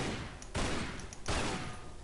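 Pistol shots in Tomb Raider Anniversary, two loud bursts about three-quarters of a second apart, each followed by a sustained noisy echo that fills the gaps.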